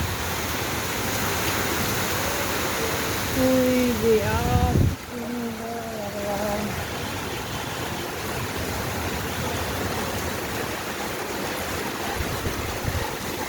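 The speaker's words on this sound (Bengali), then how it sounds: "অজস্র বৃষ্টি হচ্ছে" Heavy rain falls on a Friday evening in Dhaka, a dense, steady hiss throughout, with a voice speaking briefly partway through.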